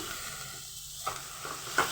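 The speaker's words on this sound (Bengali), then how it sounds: "এবার দিয়ে দিলাম চিকেনটা চিকেনটাকে একটু সবজির সাথে ভেজে নেব" Minced chicken and vegetables fry in a pan for cabbage momo filling, a soft, low sizzle with a couple of brief stirring knocks near the end, no voices.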